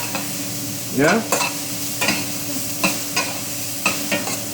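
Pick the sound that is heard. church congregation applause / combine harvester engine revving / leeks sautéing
leeks sautéing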